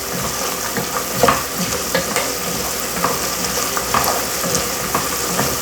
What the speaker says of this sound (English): After a minute of stirring that garlic in there